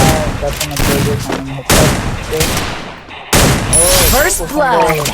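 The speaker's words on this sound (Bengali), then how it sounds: "এবার শর্ট গান হাতে নিয়েছে এদিকে শামিমের হাতে ডেজার্ট" A video game firefight with a shotgun and a Desert Eagle pistol: bursts of loud gunfire and sharp impacts come in clusters, under excited commentary from a voice.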